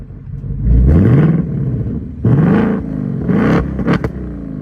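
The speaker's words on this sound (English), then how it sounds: "if you get the 10-speed, you get the really cool remote rev" A 2024 Ford Mustang GT V8 with the 10-speed revs itself on remote start, giving loud close engine bursts: a long rising rev, a second surge, then a couple of short sharp blips, with no talking.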